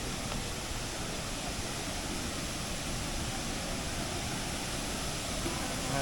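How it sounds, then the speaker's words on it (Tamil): Gushing water of Air Terjun Serendah, a waterfall, poured out as steady loud broadband roar, continuous and close throughout without any voices. "அடிச்சு ஊற்றுதேடா தண்ணி."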